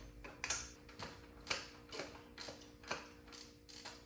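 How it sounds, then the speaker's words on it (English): A ratchet wrench turning out a 12mm bolt during a Subaru Impreza GF8 teardown for a manual swap: steady, evenly spaced clicking strokes, close and quiet, with no talk. "So now we should be able to take that bolt out all the way."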